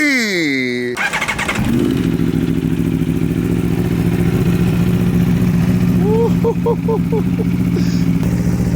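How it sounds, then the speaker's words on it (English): An Aprilia RSV4 sport motorcycle with a Spark titanium full exhaust cold starts loudly and close by, its starter whirring briefly before the engine catches into a steady, deep idle with a few sharp revs near the end. "Let's get this cold start going, baby."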